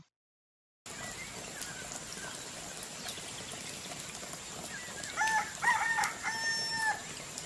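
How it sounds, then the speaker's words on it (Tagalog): A rooster crows in the distance toward the end, a rising then held call, over a steady low outdoor village ambience in Sinuda, Kataotao, Bukidnon, with no talking. "Tuktugaok sa manok, among nadungog"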